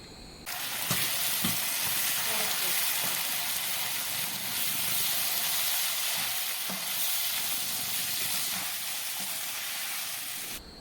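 Cooked beef with sautéed onions and a teaspoon of garam masala for Kerala-style beef roast sizzles steadily in a pan, with loud continuous frying hiss and occasional scraping stirs throughout.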